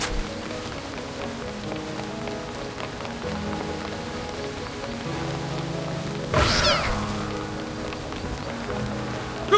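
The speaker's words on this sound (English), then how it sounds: "What are all these splinter cats doing here?" Splinter cats in the video game Reverse:1999 meow over a soft rain-like background and game music, with a louder burst of noise partway through.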